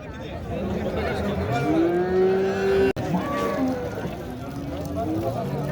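Cattle at a livestock market in Boysun, Surxondaryo, give a loud, drawn-out moo followed by a shorter one, close by over a murmur of people talking and bargaining.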